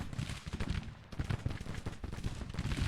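Rolling cannon and musket fire from a Grand Tactician: The Civil War battle, set in 1862 with Confederate forces engaged: dense, continuous low booms and crackling volleys overlapping in an uneven rhythm at moderate loudness, with no talk.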